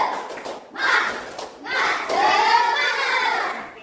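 A grade 5 class of Indonesian schoolchildren performs the rhythmic 'tepuk semangat' clap chant, their voices chanting together in bursts punctuated by a few sharp hand claps.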